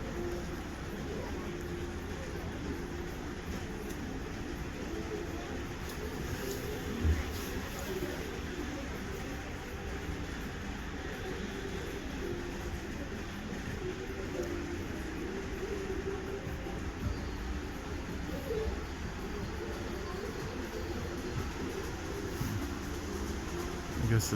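A model train rolls along a track at the Hara Model Railway Museum in Japan, a steady faint rumble and whir of wheels continuing for about twenty-four seconds amid ambient museum noise, with occasional soft clicks and no talk.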